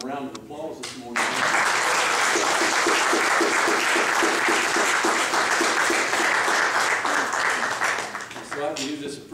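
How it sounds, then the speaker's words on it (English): A church congregation applauds at a graduation Sunday service, a sustained wash of dense clapping that swells in after a short spoken lead-in and fades toward the end as a voice speaks again. "We can give them a round of applause this morning."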